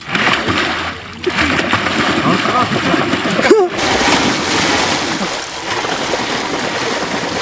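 An electric bike converted into an aqua-bike, its motor submerged, moving through water with continuous splashing and churning, close and fairly loud, and a voice talking over it.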